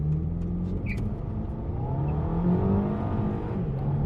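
A Volkswagen Passat CC pulls away hard in sport mode, its engine droning steadily as revs climb through the gears, heard from inside the car, continuous and fairly loud with no speech.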